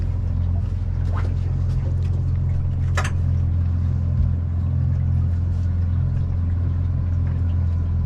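A boat motor throttled down to almost five miles an hour on a lake hums in a steady, low drone close by, with a few faint brief sounds over it.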